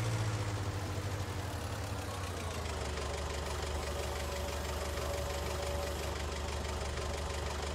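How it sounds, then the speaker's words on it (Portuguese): A forklift engine idles steadily with a low, rough knocking rumble, loud and continuous throughout, with no talk over it. "Vou deixar a empilhadeira aqui na sombra"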